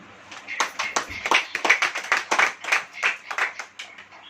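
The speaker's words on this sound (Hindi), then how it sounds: "अब ताली बजाइए।" A church congregation claps in a steady rhythm during a sermon, with many hands striking together in regular, moderately loud beats.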